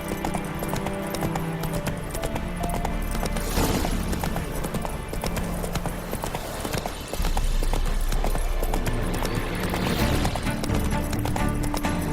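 Roach, the horse from The Witcher 3, clip-clops along steadily at a walking pace, the hoof beats continuous and fairly close under a dense game soundscape of music and ambience.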